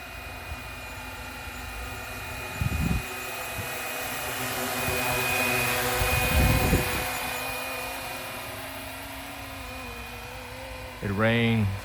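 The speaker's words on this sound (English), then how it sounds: "trying to get myself back into the groove of this helicopter" A steady high-pitched whine of a radio-controlled Flywing Bell 206 V4 helicopter's rotor and motor holds throughout, with a few brief low thumps and a short burst of talk near the end.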